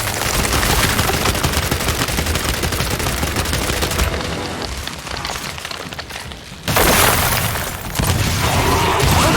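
Gears of War gunfire rattles in sustained loud bursts of rapid shots, briefly thinning out before erupting again with crashing impacts.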